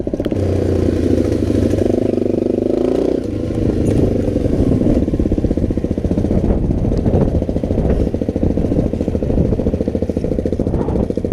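A motorcycle engine revs and bogs down, its throaty note rising then sagging and stumbling, loud and close throughout with no talk.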